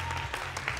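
Spectators at a men's bodybuilding contest in Taiwan applaud the posing competitors, a very short, fairly faint spell of clapping with a low hum running beneath.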